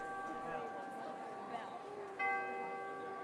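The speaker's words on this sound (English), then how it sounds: "the show begins with a bell" A bell rings as a theme-park show opens, its steady tonal partials sounding from the start and renewed by a fresh strike about two seconds in, over a murmuring crowd.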